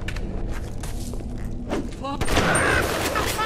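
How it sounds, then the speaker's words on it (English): Shotgun loaded with exploding buckshot fires in the Bioshock video game, a sudden loud boom at about two seconds followed by a burst of crackling blast noise, with game sounds and a voice beforehand. "I still have exploding buck in this."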